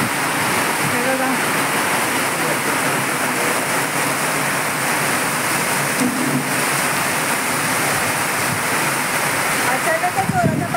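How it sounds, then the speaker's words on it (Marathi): Heavy rain pouring down outdoors, a dense, steady roar that fills the whole clip without a break, loud and close. "अचानकच जोराचा पाऊस चालू झालाय."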